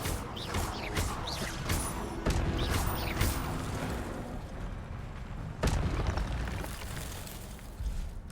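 An Incendio fire spell cast in the video game Hogwarts Legacy, heard as a string of loud, broadband fiery bursts and booms with a dense, crackling roar between them and no talk over it.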